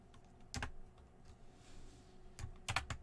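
Quiet typing on a computer keyboard, a few scattered clicks followed by a short burst of several keystrokes against faint background hum.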